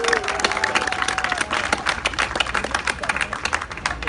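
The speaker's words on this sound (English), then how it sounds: "please join me in another round of applause for the 2019 inductees into the Long Beach Motorsports Walk of Fame" An outdoor crowd applauds inductees at the Long Beach Motorsports Walk of Fame, a dense, even wash of clapping that keeps going at a moderate distance the whole time, with a few voices mixed in.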